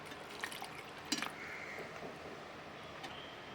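Water is poured into a mixer jar of chutney, a soft splashing trickle with a few drips, fairly quiet against steady background noise.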